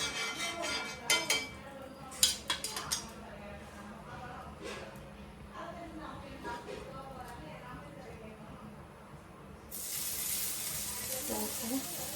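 Tofu fries in melted butter in a pan, a bright steady sizzle that rises suddenly partway through. A few utensil clicks come before it, and a person talks over the cooking.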